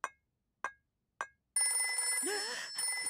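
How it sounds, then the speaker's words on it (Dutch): An emergency telephone in a Peppa Pig cartoon rings in three short, evenly spaced bursts, followed by a dense wash of cartoon sound and a voice. "De telefoon voor noodgevallen."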